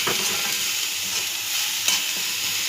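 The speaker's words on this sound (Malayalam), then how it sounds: "ഉപ്പ് ചേർത്ത് ഒന്നുകൂടെ ഇളക്കുവാണേ" Beetroot thoran being stirred with salt in a frying pan, a steady close hiss of sizzling under scattered soft scraping strokes, with one sharper scrape near the end.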